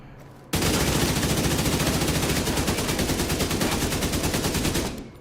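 Sustained rapid automatic gunfire in The Division 2 shooter game, a loud continuous burst of shots that kicks in abruptly after a brief quiet moment and runs for several seconds before tapering off.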